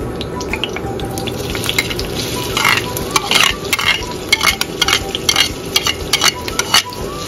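Onions sizzle steadily in hot oil in a pan, giving a dense crackling hiss with frequent spattering pops and occasional stirring clinks. No one speaks.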